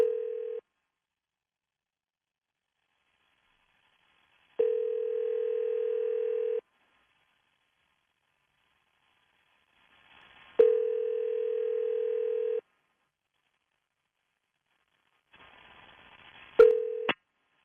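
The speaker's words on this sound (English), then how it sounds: "Now we're dialing up again." Telephone line sounds while dialing: a steady dial tone comes in several separate stretches with silent gaps between them, and the last stretch is broken by a quick dialing tone. The tones are clear and alone, with no voices.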